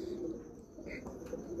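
Breeder's teddy pigeons cooing close by, a few soft, low, throaty coos rising over a quiet room background, with no talking.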